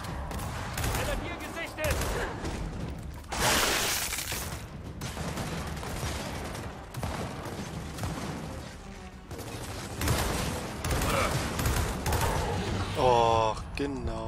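Rapid bursts of gunfire in Gears of War 4, dense and chaotic with explosions mixed in, and people talking over the action.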